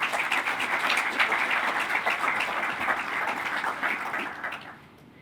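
An audience applauds to welcome the Governor of South Australia, with steady clapping that fills the hall and then fades toward the end.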